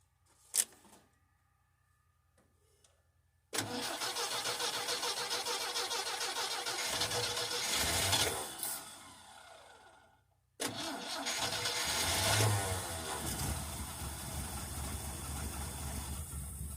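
An abandoned 1967 GMC pickup in a scrapyard gives a short crank, then fires up and runs roughly, fades out, and catches again to a steady loud idle.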